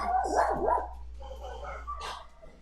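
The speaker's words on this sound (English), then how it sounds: "You can hear the dogs barking and everything." Dogs bark and yip nearby in quick bursts over a low steady hum, with no one talking.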